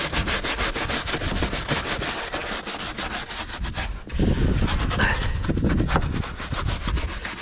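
A stiff AliExpress brush scrubs a dirty Suzuki Vitara engine bay, giving quick, rhythmic, raspy strokes up close, briefly stopping and then resuming with heavier, rougher scrubbing.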